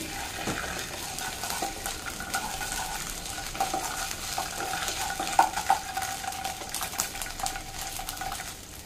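Ginger garlic paste being stirred in a pan for a lunch box dish: a spoon scrapes and taps against metal over a soft continuous sizzle, close and steady, with a few sharper clinks, no voices.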